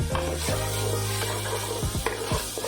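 Masala of cumin, whole coriander and pepper powder sizzles in a pan over medium-low flame while a spoon scrapes and stirs it in repeated close strokes, with no talking.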